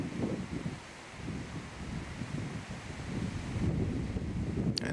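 Steady gusting wind on a golf course buffets the microphone with low rumbling bursts, fairly quiet and continuous, no voices.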